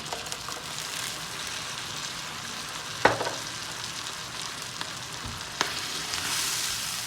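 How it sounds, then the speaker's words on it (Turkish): Tomato juice added to meat browning with tomato paste in a pan for hünkar beğendi, giving a soft, even frying sizzle with a couple of sharp utensil taps, fairly quiet and close. "Şimdi domates suyumu döküyorum."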